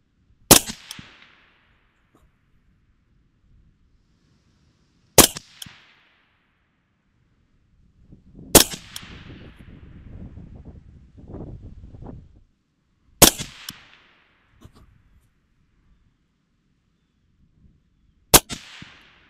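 Five sharp AR rifle shots firing M855 rounds at distant targets on an outdoor range, spaced about four to five seconds apart, each a loud crack with a brief echo, with some shuffling between shots.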